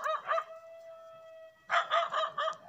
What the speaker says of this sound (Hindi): गांव के कुत्ते भौंक रहे हैं।